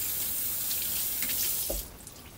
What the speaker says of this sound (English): Now, if we just wash our hands a little bit,